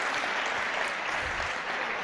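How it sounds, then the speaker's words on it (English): A conference audience at Compute Midwest breaks into sustained applause, a dense, even wash of many hands clapping that fills the room steadily for a couple of seconds. "Let's do some Compute Midwest clapping"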